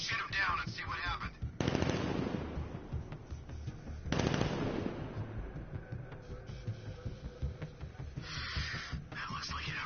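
Bursts of rapid gunfire from Batman: Arkham Knight rattle out in two loud volleys, with quieter shots and game chatter between them and voices talking throughout.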